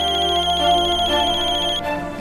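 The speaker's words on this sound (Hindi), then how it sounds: "निधि रानी की माँ का फोन" A mobile phone ringtone plays a loud electronic melody for about two seconds, close and clear with no voices, then cuts off abruptly near the end.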